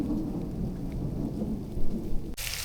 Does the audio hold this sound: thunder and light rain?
yes